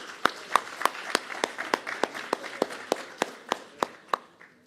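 Applause at a solemn installation ceremony for the new board of a Brazilian pharmaceutical sciences academy; sparse, evenly timed claps repeat at a quick, regular beat, fairly soft, with no talking.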